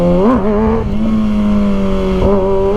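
A 2023 Kawasaki ZX-6R motorcycle engine revs steadily in first gear during wheelie practice, a loud, close, sustained drone with its pitch rising and falling slightly and a brief dip near the end, with no talking.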